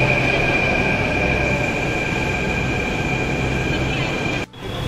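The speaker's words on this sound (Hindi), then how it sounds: "ये मेट्रो आ चुका है, अब इसमें हम बैठेंगे।" A Delhi metro train runs through a station with a steady roar and a high whine, loud and continuous, cutting off near the end.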